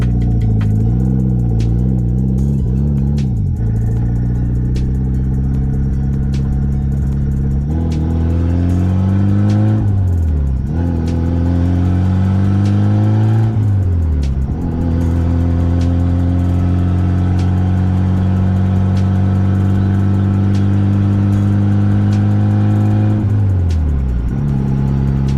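A Mitsubishi Evo 8 engine pulls loud and close while driving, rising in pitch through repeated gears with sharp drops at each shift, then settling into a steady drone before a final rev and shift.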